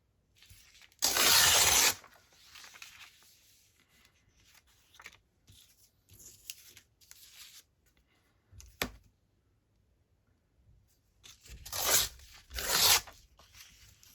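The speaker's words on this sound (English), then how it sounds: "Oh, maybe I should tear this off so I can do it all in one hit." Paper is torn in a craft session, with a loud ripping burst early on, scattered soft rustles and handling noises, then two more tearing rips near the end.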